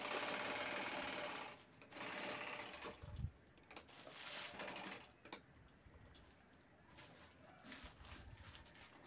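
A sewing machine stitches both sides of a turned-out shopping bag in bursts of fast, even mechanical whirring, with brief pauses between runs and no voices.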